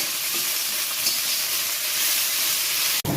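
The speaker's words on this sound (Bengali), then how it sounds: "এগুলো আগে ভাজা ভাজা হোক" Chopped green chilies fry with ginger in a pan with a steady, loud sizzle, close by, ending with a brief clunk.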